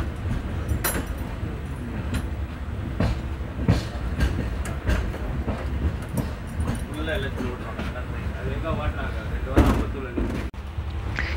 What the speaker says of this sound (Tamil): இப்போ அடுத்த ஆப்போசிட்ல வர ட்ரெயின் பார்த்தீங்கன்னா மும்பை எல்டிடில இருந்து கோயம்புத்தூர் வரைக்கும் வரக்கூடிய குர்லா எக்ஸ்பிரஸ்ங்க